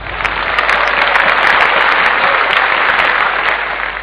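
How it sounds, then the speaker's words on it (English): An audience breaks into loud, continuous applause to welcome a speaker, the clapping dense and steady with a few sharper claps standing out, heard in a muffled, band-limited recording. "Let's give a big round of applause and welcome Vijay Pratap Singh Aditya"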